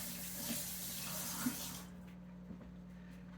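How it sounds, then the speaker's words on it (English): Tap water runs steadily for a couple of seconds while a hand is rinsed at a kitchen sink during kale salad prep, then cuts off, leaving quiet with a small knock at the end. "Just rinse my hand."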